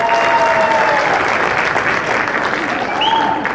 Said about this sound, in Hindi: big hand का मतलब होता है जोर से ताली बजाओ.